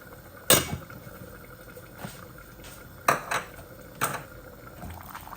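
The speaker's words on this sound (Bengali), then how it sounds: "এই দেখুন আস্তে আস্তে বলক আসতেছে" Chicken curry simmering toward a boil in a pot, a quiet low bubbling bed punctuated by a few sharp clinks and taps of utensil against the pot.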